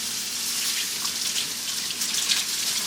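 A kitchen tap runs steadily as deveined shrimp are rinsed under the stream, a loud, close, continuous splashing hiss with no talking.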